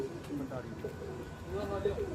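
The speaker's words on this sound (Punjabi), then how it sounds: "ਵੀਰ ਦੀ ਕਬੂਤਰੀ ਬਹਿ ਗਈ" A racing pigeon from Tarn Taran coos in soft, repeated low throaty calls close by after landing during a pigeon-flying contest, with faint background voices.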